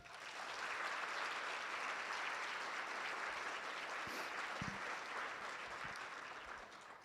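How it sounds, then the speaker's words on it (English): Sustained, steady applause from a large audience at a Boston real estate awards event honoring women, a dense wash of clapping that holds for several seconds before gradually tapering at the end. "So let's have a round of applause for all our honorees today"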